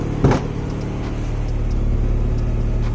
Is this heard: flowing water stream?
no